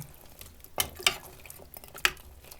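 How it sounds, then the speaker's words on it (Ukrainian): A spoon clinks and scrapes in a pot of homemade kvass as it is stirred, followed by a lid set down with a few sharp metallic taps, close and fairly quiet. "Це все перемішую, накриваю кришкою і на добу"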